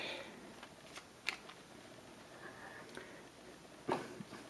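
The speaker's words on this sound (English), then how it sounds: "we'll just shuffle the others back into" Playing cards from an Arkham Horror card game being shuffled back into the deck, faint light riffles and soft snaps with a few sharper clicks, quiet and close.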